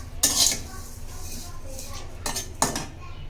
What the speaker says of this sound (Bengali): কড়াইয়ের উপরে সেমাইগুলো সব দিয়ে দিচ্ছে